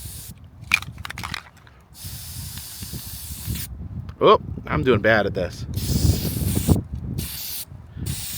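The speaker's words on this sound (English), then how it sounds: "I haven't spray painted anything in a long time" Short, sharp hissing bursts from a spray paint can, several spurts in irregular rhythm, close by, with a person speaking briefly between them.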